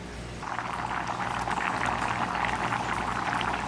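Dumplings dropping into a pot of boiling Caribbean stewed beef with peas, a steady bubbling simmer with faint splashes close by, no talking.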